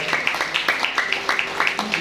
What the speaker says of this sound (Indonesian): Yang setuju tepuk tangan bagi Allah kita itu.